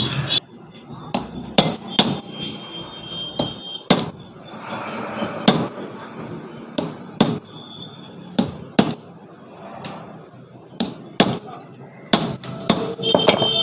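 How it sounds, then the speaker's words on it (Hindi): Sharp metal hammer strikes ring out at an irregular pace while rivets are driven into a washing machine spinner motor, some blows louder than others, over a faint background clatter. "हमारे चारों रिपीटें हमने ठोक लिए, मोटर बिल्कुल फ्री है"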